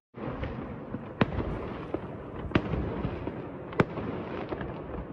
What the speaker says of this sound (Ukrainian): вирішили запустити феєрверки, попри категоричні заборони поліції